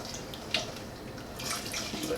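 Warm chicken stock poured slowly into a corn chowder pot while being whisked, a faint continuous liquid trickle with a brief splash near the start.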